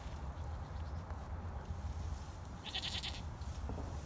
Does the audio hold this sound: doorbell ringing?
no